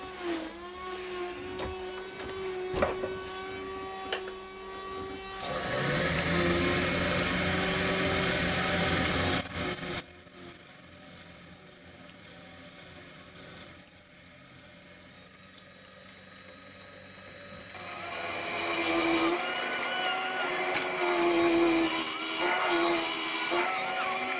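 A drill bit in a Jacob's chuck whirs and grinds continuously, boring a hole in wood on a lathe for a garlic pot, its pitch shifting as the cut goes on, with mechanical clatter near and loud throughout.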